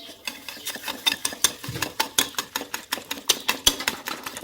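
Eggs, sugar and vanilla essence for pancake batter being whisked in a bowl, a quick run of rhythmic clicking strokes, close and fairly sharp, with no voices.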